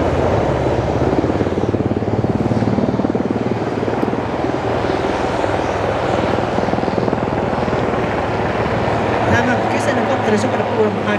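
An Aerospatiale AS-332 Super Puma helicopter at the Kauhava air show gives off a steady, loud rotor and turbine roar that continues throughout without a break.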